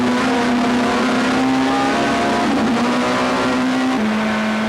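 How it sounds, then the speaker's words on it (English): Onboard a super touring race car, a Minolta-sponsored Camry in the 1996 South African championship round at Goldfields: steady loud engine drone, holding pitch with brief dips at gear changes, alone without talk. "first Dion Joubert and then one of the Nissans slipped past the Minolta Camry"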